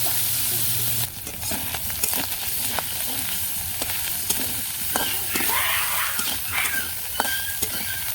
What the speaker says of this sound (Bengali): তো কড়াইতে তেল দিয়ে দিছি, এখন দিয়ে দিই শুটকিগুলো দিয়ে দিই।